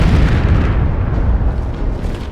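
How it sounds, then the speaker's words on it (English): Massive explosion of a Soviet N-1 rocket falling back onto its launch pad, a loud, continuous deep roaring boom that rumbles without pause, heavy in the low end, with no voices. "The rocket, of course, slowly comes back down on the pad, just explodes in a massive explosion."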